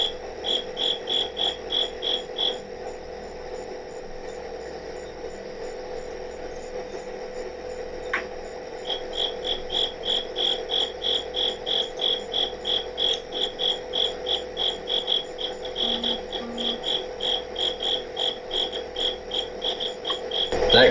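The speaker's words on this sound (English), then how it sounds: "That cricket is extremely loud and annoying." Insect chirping, likely a cricket, repeats loudly and steadily in rapid pulsed bursts over a constant background hum, with no talking.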